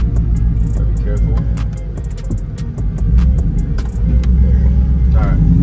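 A Ford Lightning pickup with a swapped-in Coyote V8 engine accelerates steadily, producing a loud, continuous rumble that swells toward the end. Faint ticks and clinks sit over the close engine drone.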